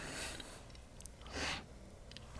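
A person with blocked sinuses sniffles, one strong close sniff in the middle, with fainter sniffs and breaths before and after. No one speaks.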